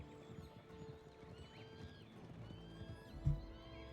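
Horses clip-clop and whinny around a home stable in a dusty frontier town in a video game, with steady hoof steps and a sharp, louder hit near the end.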